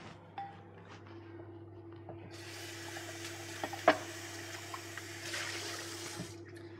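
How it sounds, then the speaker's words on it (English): Running water splashes softly into a sink with a few light clunks of a bowl being handled, quiet and close. "We're going to wash up our bowl real quick."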